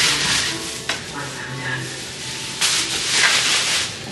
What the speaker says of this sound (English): I got the griddle out, got the onions right here.